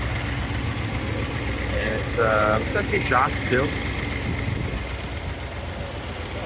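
1963 Ford Thunderbird coupe with a 390 Tri-Power V8 idling steadily with a low, even rumble throughout, while someone speaks briefly over it.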